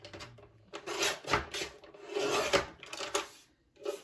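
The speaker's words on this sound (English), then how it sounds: "I have the skinniest little amount that I need to get trimmed off of this piece." A thin sliver is trimmed off a small craft piece in a series of short, close rasping and scraping strokes, with brief pauses between them. The sound is fairly quiet, and no one speaks.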